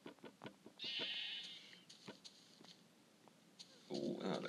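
Minecraft sheep on iOS bleat in short wavering calls, one drawn-out bleat early and another near the end, amid clicks and light game sounds with a voice briefly speaking.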